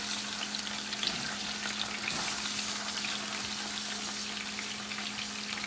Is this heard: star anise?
yes